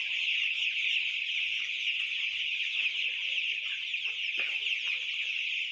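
A large flock of about 4000 broiler chickens in a poultry shed, clucking and chirping in a steady dense chorus that carries on without a break, with no talking.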